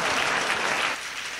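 Audience applause after a felicitation at a community gathering honoring an educational library effort: dense, steady clapping from a crowd throughout, easing slightly in the final half second.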